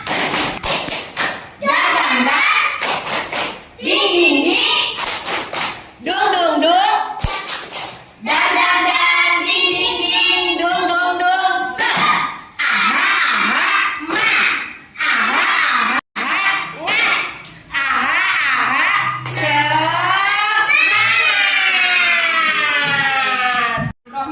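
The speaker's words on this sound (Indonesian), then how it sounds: "kita awali dengan tepuk semangat" A class of children in an Indonesian classroom performs a rhythmic clapping chant, bursts of sharp unison claps alternating with shouted chanted voices, loud and close, repeating in patterned phrases.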